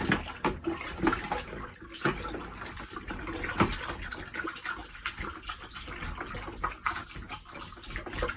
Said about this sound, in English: now we will give it a good stir